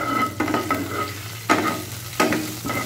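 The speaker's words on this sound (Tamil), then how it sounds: "நல்லா பொரியட்டும் எல்லாம்." Whole spices such as cinnamon, cardamom, fennel and cumin fry in coconut oil, a bright, steady crackling sizzle punctuated by a few loud stirring scrapes, close and free of speech.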